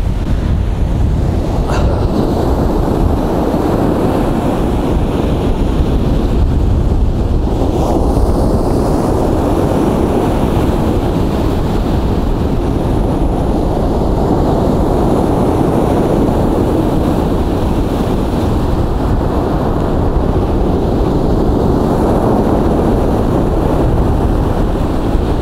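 Heavy surf churns continuously on a beach after a severe storm, with rough, roaring wind buffeting the microphone throughout, a loud, unbroken wash of stormy sea.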